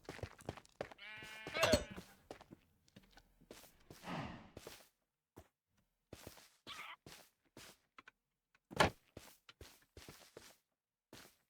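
Sheep bleat in a video game, in short scattered calls with footstep-like taps and brief pauses between them, fairly quiet and with no talking.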